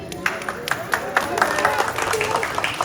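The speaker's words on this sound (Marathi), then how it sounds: "जोरदार टाळ्या" An audience at a Republic Day celebration claps in sharp, uneven bursts that build into steady applause, with some voices audible under the clapping.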